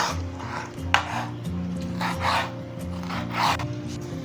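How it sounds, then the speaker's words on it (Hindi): Steady knife strokes rasp and scrape across a cutting board in a continuous rhythm as chicken breast is cut into small pieces, with a low hum of background noise and no talking. "यहाँ पे चिकन ब्रेस्ट का हमने पीस लिया, उसको हमने इस तरह से कर लेना, उसके पीस बना लेने हैं।"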